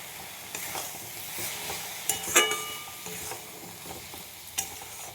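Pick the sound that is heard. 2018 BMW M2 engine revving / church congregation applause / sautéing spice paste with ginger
sautéing spice paste with ginger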